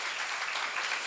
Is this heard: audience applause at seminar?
yes